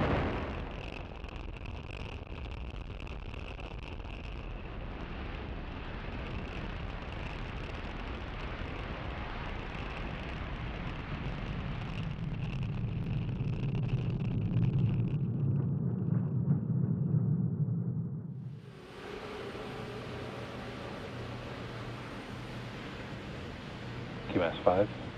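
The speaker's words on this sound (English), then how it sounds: "ignition and liftoff of Starlink 649. A Falcon flies for the 20th time." A SpaceX Falcon 9 booster lifts off on a Starlink mission, flying for the 20th time. A broad roar swells into a heavy low rumble, then cuts off abruptly, while a voice talks over it.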